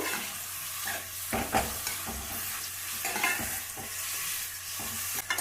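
Cut mushrooms cook in oil in a pan, a constant close sizzle with soft stirring scrapes and a few louder clatters of the spoon.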